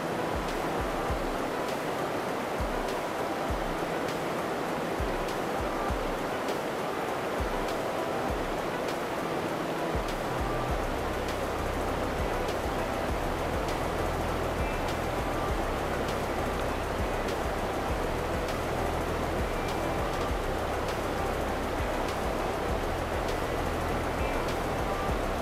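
Rapids on a river rush and churn steadily, a close, continuous broadband roar of flowing water with no voices, heard while fly fishing for trout on the Santiam.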